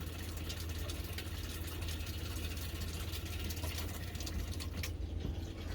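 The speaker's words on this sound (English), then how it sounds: "I'm starting to hear air running through the water pump" A motorhome water pump running with air passing through it gives a faint, steady low hum, with a light irregular sputtering rattle on top.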